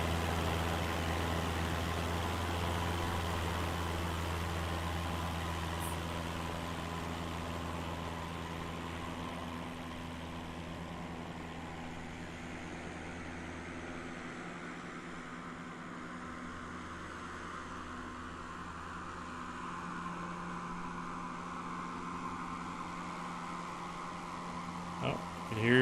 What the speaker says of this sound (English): Oh, you can hear your engine.